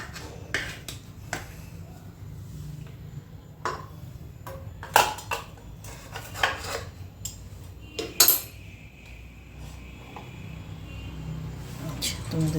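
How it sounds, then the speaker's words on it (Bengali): A small bowl is set down inside a cooking pot with kitchen tongs while a cake is being made at home, giving scattered sharp metallic clinks and taps, loudest near the middle, against quiet room noise. "এরকম একটা ছোট্ট বাটি বসিয়ে নেব বসানোর সময় সব থেকে বেটার সারাশির ইউজ করা"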